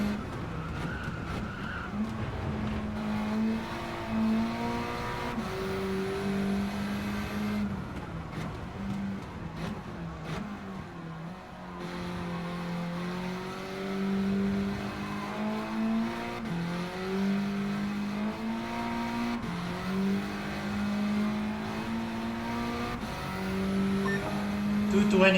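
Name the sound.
car engine revving in video game Gran Turismo 7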